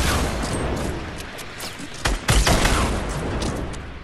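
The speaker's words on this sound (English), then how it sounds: "I can't, they're just spamming rockets!" Rocket explosions in the Fortnite video game, loud dense booms and rapid blasts piling up continuously, with a heavier burst near the middle, all at close range.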